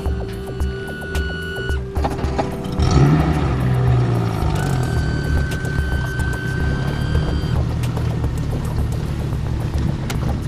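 A Zodiac's outboard motor runs at the Guilvinec harbour in southern Finistère, a steady loud throbbing hum with mechanical clunks and rattles, continuous and close throughout.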